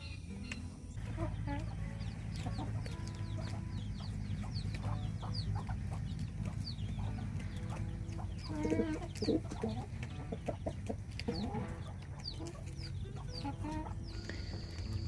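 Chickens on a spring homestead cluck steadily at close range, with scattered sharp calls and a rooster-like crow over a constant outdoor background hum.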